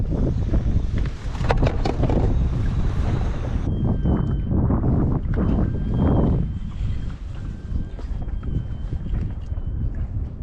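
Strong wind at sea on the Mediterranean buffets a small inflatable boat, a loud, close, constant roaring rush with gusty swells and no voices.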